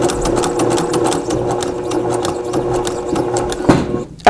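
A sewing machine quilts a small project, running steadily with a loud, close, rapid mechanical hum and needle rattle before stopping near the end.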